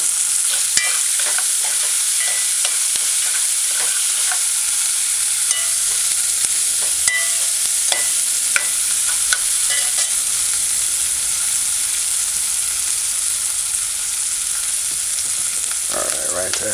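Loud, steady sizzling of floured chicken frying in a pan with crackles and occasional scraping clicks throughout, no one speaking.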